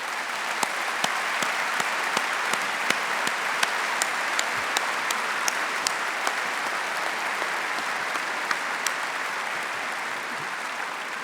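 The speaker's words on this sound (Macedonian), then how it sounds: "Ве молам еден голем аплауз." A large audience at a music awards show gives sustained applause, a dense, even roar of many hands with sharp individual claps standing out, steady for the whole stretch.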